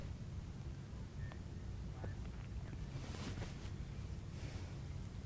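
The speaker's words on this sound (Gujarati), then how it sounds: "પવનના સુસવાટા સાથે વરસાદ ખાબક્યો।" Rain falls with gusting wind over villages in the Shinor area of Vadodara, a continuous soft hiss and rush with faint, scattered patters and no clear voices.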